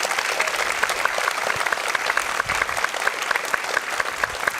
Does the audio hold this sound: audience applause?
yes